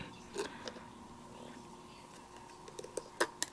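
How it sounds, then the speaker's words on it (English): Small Tim Holtz craft scissors snip through little sticks on a crafting desk, giving soft, close clicks and snips scattered over a faint background, with a quick cluster of sharper cuts near the end. "maybe I'm going to cut these little sticks. What can I do that with? Ooh. Tim Holtz scissors"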